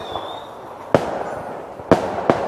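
Firecrackers explode at Lunar New Year in a Chinese Kinh village, three sharp loud bangs at irregular intervals standing out from a dense background crackle and crowd noise.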